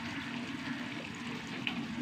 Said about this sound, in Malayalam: ഗ്രേവിക്ക് വേണ്ടി കുറച്ച് ചൂടുവെള്ളം ഒഴിച്ച് കൊടുക്കട്ടെ.